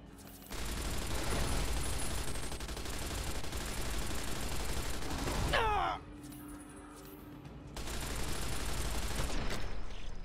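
Light machine gun in the Fallout: New California game fires dense sustained bursts, loud and continuous, breaking off briefly with a short rising screech before the rapid fire resumes.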